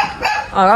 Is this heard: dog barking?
yes